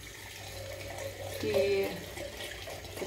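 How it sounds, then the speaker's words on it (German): Water running over sprouting wheat grains during an evening rinse, a faint steady trickle with a brief louder pour in the middle, heard close and alone. "So, hier einmal die Abendspülung"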